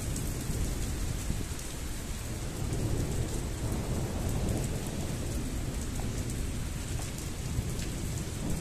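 A thunderstorm over Ingolstadt, with light steady rain pattering and a deep continuous rumble of thunder, sounding broad and constant with no voices.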